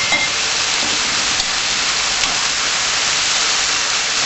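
Bamboo shoots simmering with chicken stock, a loud, dense, steady hiss of bubbling liquid and sizzling throughout.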